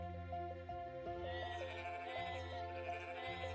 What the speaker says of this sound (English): I like sheep sounds.